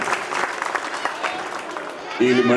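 An audience at the opening ceremony of a new government school breaks into applause, a dense patter of claps close by, with a voice speaking over the clapping at the end.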